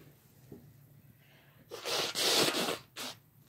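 A single loud sneeze bursts out after a faint breathy intake, followed by a short, softer exhale or snort a moment later.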